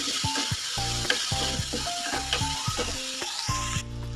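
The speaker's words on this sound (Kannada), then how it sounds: "ಇದೆಲ್ಲವೂ 2 ನಿಮಿಷ ನೀಟಾಗಿ ಫ್ರೈ ಆಗಲಿ." Onions, green chillies and curry leaves fry in a pan, a steady close sizzle broken by repeated scraping strokes of a spoon stirring through them.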